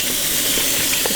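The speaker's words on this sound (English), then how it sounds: "you want to rinse these off in cool water" Cool tap water runs steadily over fish fillets being rinsed in a kitchen, a loud, continuous hiss and splash with no pauses.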